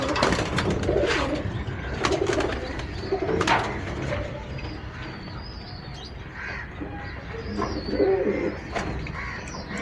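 Pilanka-breed pigeons with yellow eyes, a record-flying strain, coo repeatedly at close range, with soft throaty calls layered over a busy loft and other birds chirping in the background.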